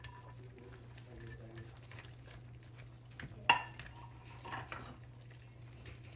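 Celery is stirred into spicy pork in a pan, a faint low sizzle under soft scraping and stirring, with one sharp utensil clink against the pan partway through.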